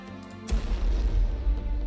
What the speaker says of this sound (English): So how well did our bombardment do?